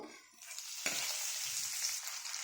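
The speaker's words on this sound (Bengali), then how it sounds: "ক্যাপসিকামগুলি ভাজা হচ্ছে" Capsicum pieces fry in hot oil in a pan, a continuous close sizzle with a sharp clatter of stirring near the start and soft scraping underneath, no voices.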